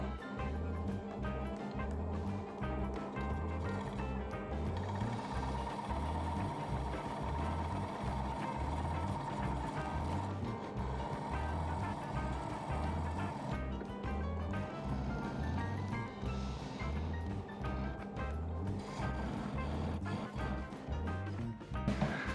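A wood lathe turns a natural-edge apple wood bowl while its chuck recess is cut, giving a loud, steady machine drone with a regular thumping pulse throughout, and no speech.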